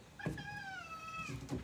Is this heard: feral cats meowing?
yes